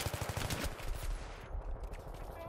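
Rapid bursts of gunfire in the video game Battlefield 3 crackle in quick succession, then thin out into scattered shots, fairly faint and without talk.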